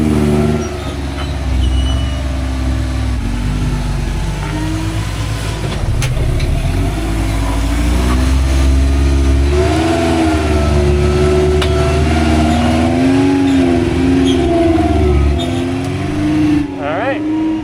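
A carbureted rock crawler's engine revving and droning up close as it climbs, with a steady rumble that rises and falls, under a voice talking.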